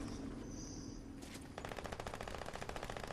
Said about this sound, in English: People shooting, but not at me.